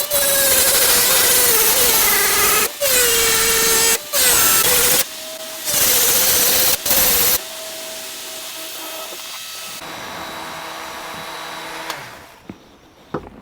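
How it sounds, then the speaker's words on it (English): Rotary tool fitted with an 80 grit flap wheel carving a yew wood spoon, a loud high whine in several bursts with brief stops, then quieter running and winding down at the end. "Now I have a rotary tool. Takes these fairly standard parts, including these 80 grit flap wheels."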